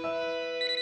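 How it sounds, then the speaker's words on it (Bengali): A cartoon telephone rings with a bright electronic tone, one short close burst that shifts pitch partway through, with no talk over it. "ফোনটা তো আমারে তুলতেই হইবে"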